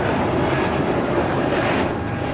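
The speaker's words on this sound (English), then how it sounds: "A220-300 is taking off to San Antonio, flight 1454." A Delta Airbus A220-300 takes off from LAX for San Antonio, a short burst of dense, steady jet roar at close range that stays constant.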